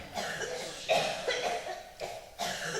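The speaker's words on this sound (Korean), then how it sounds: "기침 다 터내요." Several hoarse coughs ring out in a church revival service, three or four short bursts in quick succession, moderately faint with a roomy echo.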